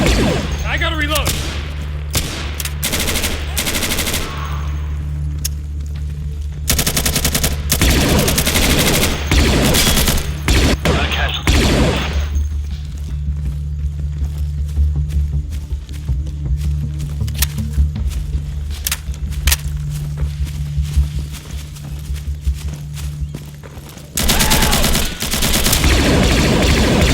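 E11 blaster rifle sound effects fire in rapid, loud bursts during an Insurgency video game match, with booming impacts and shooter-game ambience in between.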